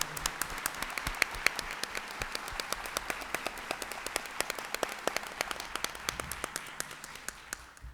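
Small audience at an evening talk clapping steadily, a dense patter of hand claps that holds through the whole stretch and fades slightly at the end.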